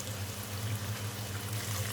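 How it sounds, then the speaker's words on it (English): Water poured into a pot of spiced rice during cooking, a faint continuous pouring and trickling wash heard alone without speech. "so I'm going to add water"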